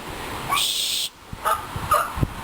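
Dogs bark at people passing by, giving several loud, close barks in short bursts with brief quiet gaps between them.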